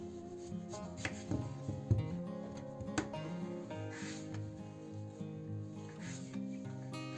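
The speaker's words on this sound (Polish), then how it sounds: "Obrane ziemniaki kroimy teraz w kostkę." Peeled potatoes are cut into cubes with a knife on a board in a home kitchen, giving a run of close, irregular chopping knocks over steady background music, with no talk.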